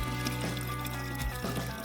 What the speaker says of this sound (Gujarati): અહીંયા પાણી આવે છે પીવાનું પીવાનું પાણી આવે છે